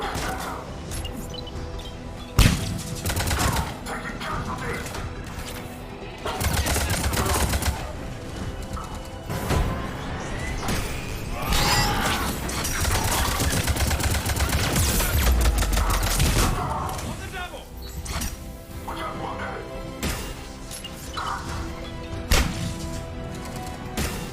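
Gunfire crackles through a Mass Effect 3 battle, with scattered shots and bursts that come and go over a steady rumble, and a few sharp heavy impacts standing out along the way.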